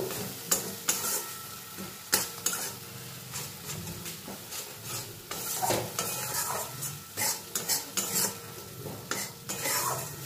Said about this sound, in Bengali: দিয়ে মশলার সঙ্গে এটাকে কিছুক্ষণ কষিয়ে নেব।